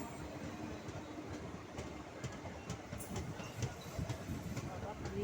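Lalgola local passenger train passing, a faint, steady rolling rumble with light wheel clatter, heard from a little distance with low background voices.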